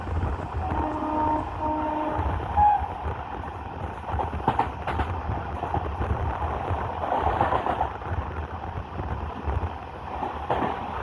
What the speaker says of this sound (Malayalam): ട്രെയിൻ ഇപ്പോൾ കരുനാഗപ്പള്ളി റെയിൽവേ സ്റ്റേഷൻ സ്കിപ്പ് ചെയ്യുകയാണ്